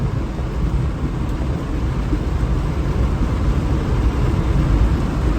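Heavy monsoon rain on a hillside near Banasura dam in Wayanad, a loud, dense and continuous roar with a deep rumbling low end throughout.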